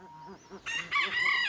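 A Yokohama hen and other chickens on a poultry farm cluck and crow in a short, fairly faint burst, the calls rising and stacking toward the end.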